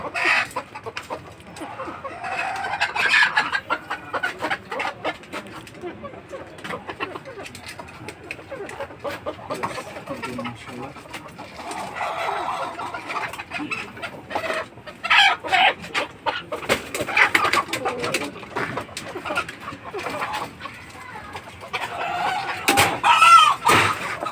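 Native desi chickens cluck and squawk nearby in scattered bursts, with a few sharp knocks and a voice talking now and then.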